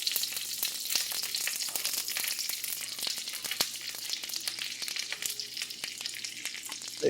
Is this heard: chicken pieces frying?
yes